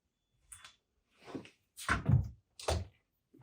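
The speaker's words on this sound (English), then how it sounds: "now I'm going to go ahead and show you the inside. Open up these doors." Doors of a 60-inch commercial beer dispenser cooler cabinet opened in a series of four distinct thunks and rattles, close and fairly quiet, with short silences between them.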